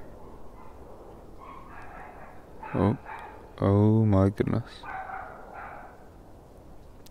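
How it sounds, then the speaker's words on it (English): A dog barks a few times at moderate distance, short bursts followed by a longer run of barking, while a person speaks briefly nearby. "That is that dog once again. My enemy dog. Always barking right when I'm filming"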